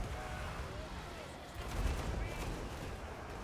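Battle din from Total War: Warhammer 2, with explosions and gunfire as Kislev troops and grenade-throwing outriders arrive, forming a dense continuous rumble with a heavier blast burst midway.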